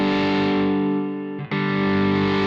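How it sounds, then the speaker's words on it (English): Distorted guitar tone through a homemade symbiotic-style effects pedal fitted with a reverse audio taper pot, a sustained harmonic-rich chord that dips briefly as the knob turns, then swells back loud and even. "You can hear there's such a wider range of tones available using a reverse audio taper pot."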